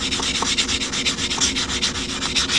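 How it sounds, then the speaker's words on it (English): A sanding block, like a nail file block, rubs steadily back and forth over the cut edge of a coin ring, making a close, continuous scratchy rasp with quick regular strokes and no talk. "we're just gonna clean up this cut edge. Get it nice and smooth and shiny"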